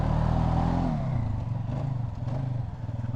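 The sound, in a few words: Polaris Sportsman 570 ATV engine revving at full throttle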